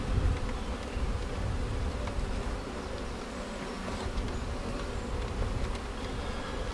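A dense, continuous buzzing of many honeybees in Apidea mating nucs fills the air evenly, a steady hum with no voices.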